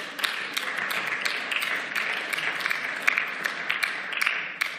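Applause in the Berlin state parliament: a steady round of clapping from the chamber, moderately loud, with no talk over it.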